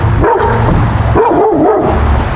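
A dog barking in short loud bursts close to the microphone, several rough woofs clustered together over a constant noisy background.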